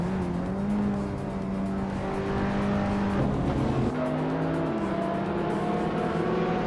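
Race cars in a video game, led by a 2003 Renault Clio V6 on the Sebring School track, roar steadily with shifting engine pitch as gears change, a loud continuous pack sound without talk.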